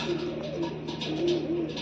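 A young pigeon coos close by in a few low, soft, repeated calls over faint background noise.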